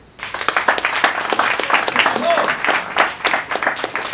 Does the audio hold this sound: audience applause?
yes